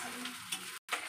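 Potatoes frying in a pan give a brief burst of close, steady sizzling hiss with a few faint crackles, cut by a short silent gap.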